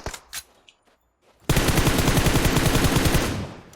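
Automatic gunfire from PUBG Mobile: a few faint clicks and blips, then from about 1.5 seconds a loud, sustained rapid burst of shots that tails off slightly near the end, with no talking.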